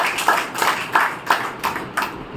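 An audience at a Brahma Kumaris spiritual class claps in steady rhythmic unison, each burst of many hands striking together at a regular beat, fairly loud and close.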